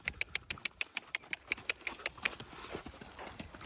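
Horse hooves pound out a steady, evenly spaced run of sharp thuds at a canter during riding training. The beat is close and clear for most of the stretch, then softens and loosens toward the end.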